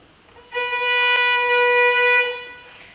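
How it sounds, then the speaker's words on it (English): Bowed violin playing one sustained, steady note with a rich, bright tone, loud and close, swelling in and fading after about two seconds, with no voices. "That is the sound of the violin."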